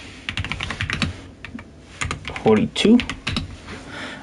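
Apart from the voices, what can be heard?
typing on a computer keyboard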